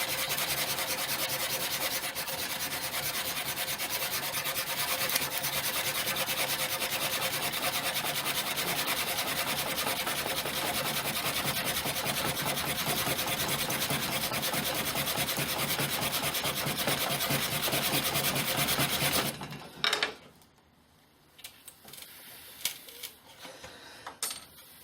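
Friction fire making with a 9-inch hickory blade rubbed hard in a notch until a coal forms: loud, steady, rapid rasping strokes for about twenty seconds, then abrupt stop followed by faint scattered small sounds.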